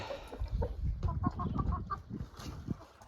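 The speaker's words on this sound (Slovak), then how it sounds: "Perliček iba kohúta naháňa." Guinea fowl chasing a rooster in a farmyard: several clucking, squawking bird calls come in short bursts at close range over low rustling background noise, with no talk.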